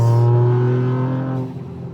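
A Toyota GR Yaris with a 1.6-liter three-cylinder engine, driven on snow, holds a loud, close, steady engine drone that eases off slightly toward the end of the short clip.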